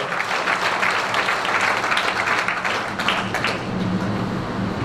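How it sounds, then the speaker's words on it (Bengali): A crowd gives loud, sustained applause for the prime minister, thick overlapping clapping that holds an even level throughout with no voices rising above it. "সর্বোচ্চ হাততালি প্রধানমন্ত্রীর জন্য হবে।"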